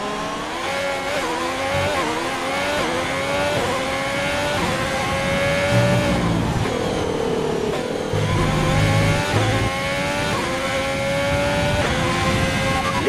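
A Formula 1 race car in F1 2020 at the Chinese Grand Prix screams steadily and loudly, its engine pitch climbing and dropping through repeated gear shifts, with no voices.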